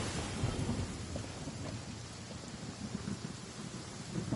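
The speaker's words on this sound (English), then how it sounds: "We'll just listen to the sounds of the thunder and lightning." Steady rain pours in a video game world while low thunder rumbles beneath it, a dense, continuous wash of storm noise with no voices.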